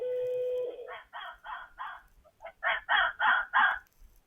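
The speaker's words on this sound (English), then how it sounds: "at night, she would come and call for me with this sound" A rescued fox cub calls at night, giving a series of about nine short, harsh, raspy yelps in quick succession, close and fairly loud, after a brief steady tone at the start.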